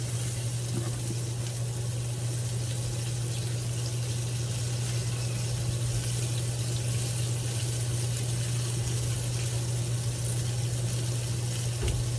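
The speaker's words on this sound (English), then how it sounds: "now I'm going to take that sauce I mixed up, and I'm going to pour over it." Mixed sauce poured over drained food in a hot pan, a continuous loud sizzling hiss with watery bubbling that holds steady throughout, close up and without talk.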